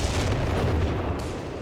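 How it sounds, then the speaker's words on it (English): Artillery and mortar fire rumbling in Company of Heroes 3 as a German wall is shelled, with low, dense booms rolling continuously in the distance. "artillery called in. Mortars for Noony to try and crack open this German wall up here in the centre"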